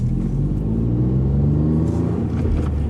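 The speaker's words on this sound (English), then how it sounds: "You hear more the 3-cylinder rather than the exhaust note." A 2018 Ford Fiesta ST's 1.5-litre three-cylinder EcoBoost engine revs and accelerates with a steady, low, throbbing drone, fairly loud and continuous throughout.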